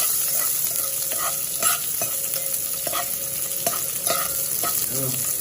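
Onion sizzling in hot oil in a pan while making hotel-style pulao at home, a loud continuous frying hiss with repeated scraping and clinks of a spoon stirring throughout.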